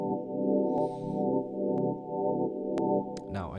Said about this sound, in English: the liquid organ, sounds something like this